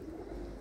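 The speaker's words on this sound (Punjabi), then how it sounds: "ਆਹ ਕਬੂਤਰੀ ਆ ਚਿੱਟੀਆਂ ਅੱਖਾਂ ਦੀ, ਧੌਣ ਤੇ ਲਾਲ ਛੋਟਾ" A white-eyed female racing pigeon with a small red mark on the neck, a cup winner, gives a brief, close, low, steady coo.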